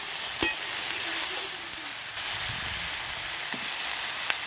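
Onions frying in a pan with salt and turmeric about to be added, a steady sizzle running throughout with a couple of brief clicks from the pan.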